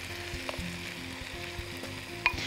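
Tomatoes sizzle and fry in a hot pan over kofta for a lasagna, a steady close crackle with a few light stirring clicks and no talking.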